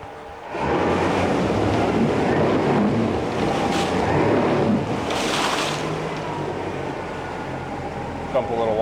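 A 2009 Yamaha 75hp four-stroke outboard motor runs in forward gear with a steady, close drone that stays level for several seconds, mixed with water and wind noise.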